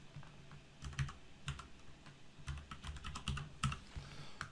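Fingers tap on a computer keyboard in irregular bursts of crisp, close keystrokes, including a heavier space-bar press, at a quiet level with no talking.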